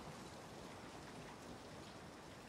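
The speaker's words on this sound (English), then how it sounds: "it's gotta be raining too at this freak-ass time" Steady rain from the horror film The Conjuring 2 hisses and patters continuously, a dense even wash with no talk over it.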